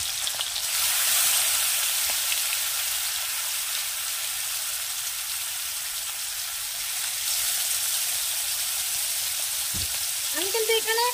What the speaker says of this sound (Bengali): আমি চিংড়ি মাছটা ফ্রাই করে নিই এই যে তেলটা গরম হয়ে গেছিল দিয়ে দিই